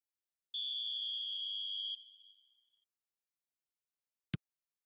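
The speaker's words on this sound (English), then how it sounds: "There's the whistle for half-time." A referee's whistle at a Manchester City vs Arsenal cup football match blows one long, shrill blast for half-time and trails off, followed later by a single sharp click, with no voices.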